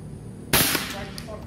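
A PCP Excalibur air rifle fires a 13.4 grain MSB slug on a 100-metre range. The single sharp, loud crack is close and clipped, with a short fading tail.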